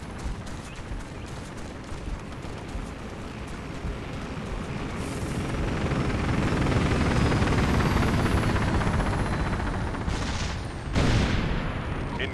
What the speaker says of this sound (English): Engage gunship.